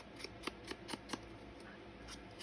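Scissors snipping paper for a garden journal, about five quick crisp close cuts in a steady rhythm, then a short quiet stretch.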